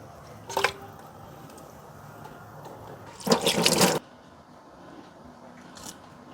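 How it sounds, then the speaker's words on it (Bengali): A glass of warm water splashes into a cooking pot for chicken roast spiced with whole garam masala. The pour is one brief, loud rush of under a second, after a short clink, with a quiet room around it. "এক গ্লাস জল আমি দিয়ে দিলাম"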